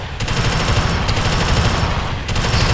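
Automatic weapons fire nonstop in the Alien Swarm video game, a dense, loud, continuous rattle of rapid shots with no talking over it.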